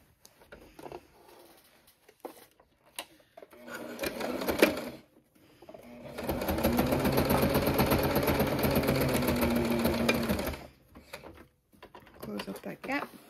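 A sewing machine stitching a bum bag, with short bursts early on and then one long, steady, loud run of about four seconds. Quieter handling sounds come between the bursts.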